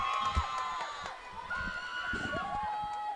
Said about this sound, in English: You can really hear the crowd getting behind both teams here.